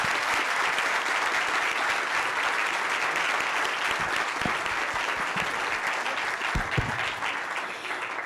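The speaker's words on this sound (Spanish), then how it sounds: "Quiero pedirles un gran aplauso para quienes nos acompañaron hoy aquí." Sustained audience applause in a conference hall honoring departing panelists at a judicial panel on international cooperation and data protection, steady dense clapping throughout with no talk over it.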